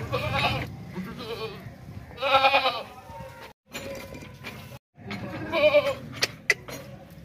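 Breeder goats bleat loudly several times in close succession, with a brief pause in between and some background noise.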